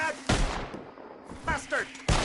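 Gunfire in the Western video game Red Dead Redemption 2: three sharp, loud shots with ringing tails, spaced unevenly over about two seconds, with brief character voices between them.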